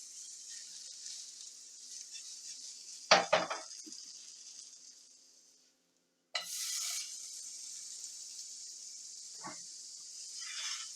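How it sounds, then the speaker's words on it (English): Butter melting and sizzling in a hot pan for beef and bean quesadillas, a steady hiss interrupted by a sharp clatter, fading to a brief silence before the sizzle returns loud and constant. "Take your butter. Put it in your pan."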